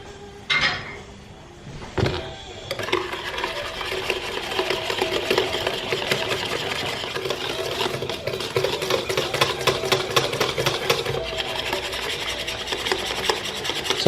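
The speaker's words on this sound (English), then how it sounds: "I'm going to keep whisking so that we don't get lumpy bits as the corn flour thickens up the mixture." Corn flour mixture being whisked steadily in a pot on the stove, a continuous close scraping and rasping that runs throughout after a couple of brief knocks at the start.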